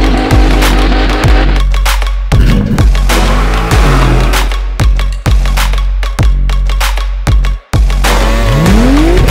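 A BMW E36 drift car screams at high revs, with sustained tire squeal, engine roars, and sharp shifts and pops. The sound is very loud and close, with a brief dropout near the end.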